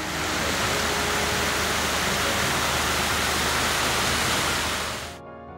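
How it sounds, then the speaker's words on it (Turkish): A valley waterfall roars as a dense, constant wash of falling water, loud and unbroken for about five seconds before cutting off abruptly. "vadilerdeki şelaleler muhteşem bir atmosfer oluşturuyor"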